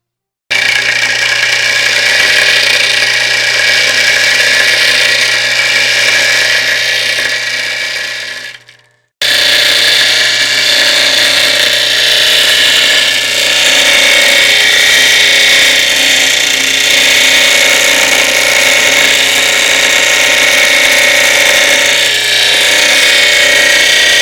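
A dry grinding wheel shapes an agate marble, giving a loud, steady, close whine that cuts out for about a second, then resumes and runs on evenly.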